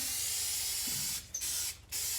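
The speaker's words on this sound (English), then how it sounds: "We're going to just spray 2 coats." A spray gun applies a coat of paint while a vintage 1954 King travel trailer camper kitchen is built, a steady close hiss with two brief breaks as the trigger is released.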